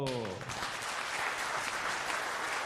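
Crowd at a political rally breaks into sustained, loud applause, dense clapping filling the space from start to finish, with a brief voice audible at the very beginning.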